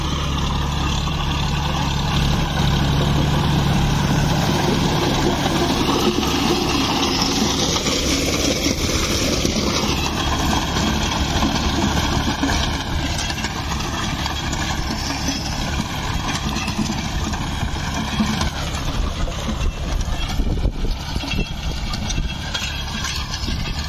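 Two tractors, including a John Deere 5050D pulling a rotavator and a Sonalika DI 35, work a field during wheat sowing, their diesel engines droning steadily with shifting pitch as they load and ease off, no voices over them.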